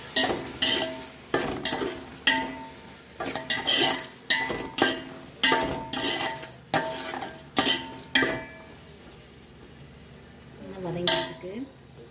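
A spoon scrapes and stirs chopped mint and coriander through Ambur-style biryani in a metal pot, a series of rhythmic clattering strokes with a soft sizzle underneath, ending in quieter frying.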